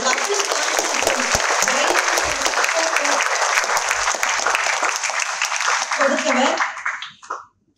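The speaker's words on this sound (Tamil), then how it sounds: "உங்களுக்கு ஒரு பெரிய கைத்தட்டல் கொடுக்கணும்" Loud, dense audience applause for Dr. Prakash Rao at a Tamil gathering, sustained for several seconds close up, then tapering off and stopping near the end.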